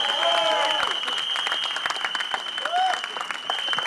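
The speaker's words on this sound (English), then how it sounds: "Please give him a round of applause." An audience at a film teaser launch applauds across the room, a steady patter of claps with a sustained electronic tone running underneath throughout.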